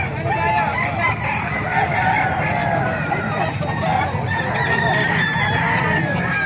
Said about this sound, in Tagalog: Napakarami pong manok dito.